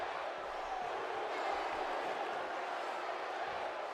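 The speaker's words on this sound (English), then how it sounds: "Gargano trying to get some fuel from the crowd, trying to have them cheer him on" Arena crowd noise from the WWE 2K17 wrestling game forms a steady, dense roar of cheering, constant and fairly faint, with no distinct speech standing out.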